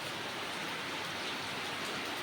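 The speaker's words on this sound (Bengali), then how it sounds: "জোরে আসলো বৃষ্টিটা" Heavy rain pouring down outside a village home, a dense, even, steady hiss of falling water heard from nearby with no speech.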